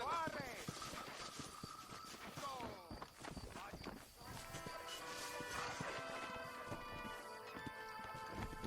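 Horse hooves clip-clop at a steady trot through a scene in the video game Red Dead Redemption, with music and bell-like tones layered over the rhythm.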